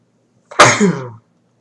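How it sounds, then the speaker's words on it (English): One sharp, close sneeze bursts out and fades quickly, surrounded by silence. "So you have to sneeze."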